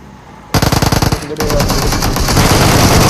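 Gunfire in the mobile battle-royale game PUBG Mobile on the Erangel map: a rapid burst of individual shots, then a dense sustained stream of loud automatic fire, close and alone.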